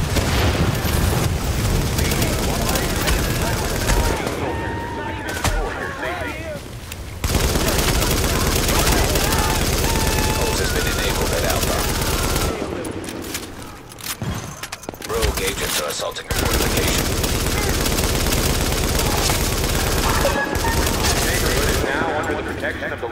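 Heavy gunfire and bursts from the video game The Division on Xbox One fill most of the span, broken by short lulls, while voices talk over the shooting.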